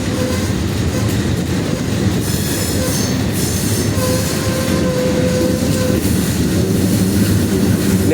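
Close, loud freight train on a curve along the Klamath Falls to Roseville line, a continuous heavy rumble topped by drawn-out wheel squeals and faint clatter throughout, with no voices.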